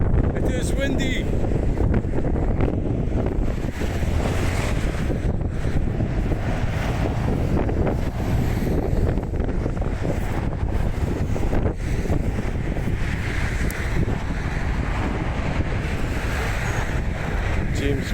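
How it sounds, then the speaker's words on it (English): Strong wind buffets an outdoor microphone beside the Bannockburn Interchange in Stirling, Scotland, a loud, continuous low rumble and roar with gusty swells, while traffic passes faintly underneath. "It is windy."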